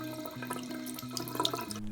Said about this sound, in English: now we're just gonna add some water